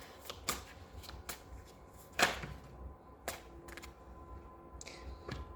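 Egyptian oracle cards are handled and shuffled, giving a string of crisp slaps and flicks at an uneven pace, with a sharper snap near the middle, close and fairly quiet.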